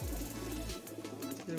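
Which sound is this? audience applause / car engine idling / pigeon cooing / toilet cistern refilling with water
pigeon cooing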